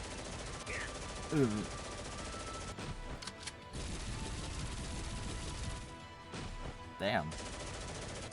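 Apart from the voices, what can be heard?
gunshots ringing from all directions in Granblue Fantasy video game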